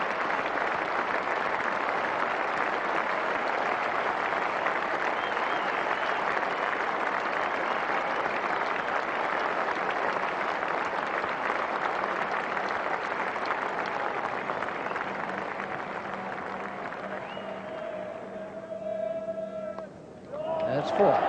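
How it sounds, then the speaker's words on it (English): A cricket crowd gives a long standing ovation at a 1989 England versus Australia Test match after a batsman reaches his century, a sustained roar of applause that fades toward the end as a commentator's voice comes in. "A standing ovation and applause from everyone on the field"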